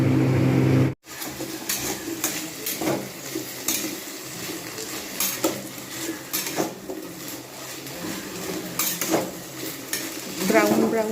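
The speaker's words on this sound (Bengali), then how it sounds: "আঁচ মিডিয়াম কমিয়ে এইরকমভাবে কিন্তু আমি এটাকে ভাজতে থাকবো।" Cauliflower and potatoes fry on medium heat for a poppy seed curry, a steady sizzle punctuated by frequent scraping stirs and clinks of a utensil against the pan, close by, after a brief cut at the start.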